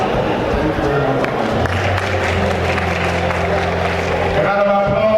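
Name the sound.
audience applause for the chairman of the day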